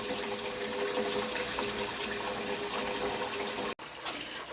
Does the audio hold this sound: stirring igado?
no